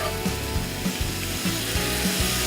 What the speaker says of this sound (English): I love to hear the sizzle